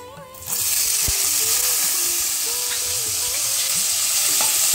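Coconut pieces hit hot oil in a pan and begin sizzling loudly after a brief quiet start. The frying continues as a steady hiss, with occasional scraping of a stirring spoon.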